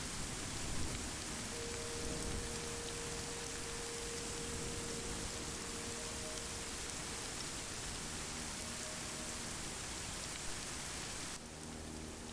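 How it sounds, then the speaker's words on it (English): Steady rain falls on surfaces outdoors, a soft, even hiss that holds for the whole stretch with no speech, then drops slightly at the very end. "Oh god, it's raining."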